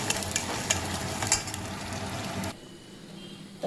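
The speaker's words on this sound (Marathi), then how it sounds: "आता याच्यामध्ये टाकते मी हे पेस्ट आणि याला छान मस्तपैकी परतून घ्यायचं" Masala paste sautés in hot oil in a pan, a busy crackling sizzle with scraping stirs and light clicks that cuts off abruptly partway, leaving only a faint low hiss.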